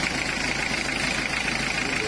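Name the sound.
1990 model motorcycle engine idling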